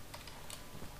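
Computer keys clatter in quick, faint taps during a Minecraft platforming session, a short run of light keystrokes set against a steady background hiss, with no voices.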